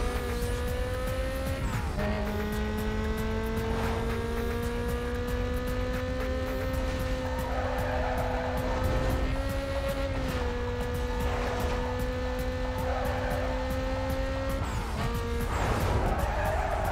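A Porsche racing in Need for Speed: Most Wanted, its engine holding a steady, loud, continuous drone that rises and drops with gear shifts, with tire noise and background game music throughout.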